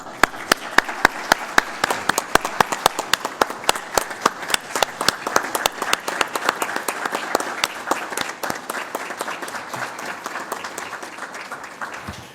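A room at a Santa Rosa County board of commissioners meeting applauds a resident named Tammy, a sustained burst of many sharp hand claps that thins gradually toward the end, with little talk.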